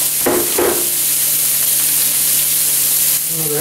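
Sliced mushrooms sizzle and simmer in melted butter in a pan for a chicken marsala, a steady close frying hiss with a couple of brief louder spatters near the start.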